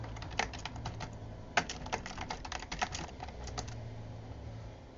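Someone types on a computer keyboard in quick bursts of close key clicks with a few louder presses, trailing off into a quiet hum toward the end.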